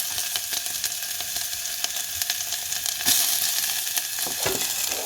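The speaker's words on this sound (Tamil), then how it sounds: "இந்த பாருங்க கீரை வைக்க போகிறேன் வெங்காயத்தை போடுறேன்" Onions frying in a hot pan for a spinach dish give a loud, continuous close sizzle with crackling pops and the scrape of stirring.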